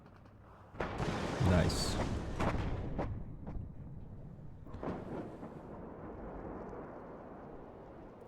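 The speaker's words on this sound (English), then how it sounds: "Some artillery coming in." Incoming artillery strikes in the modern warfare strategy game WARNO land as deep, thunderous booms, one heavy impact near the start followed by several more distant rumbling hits, with a brief spoken word over them.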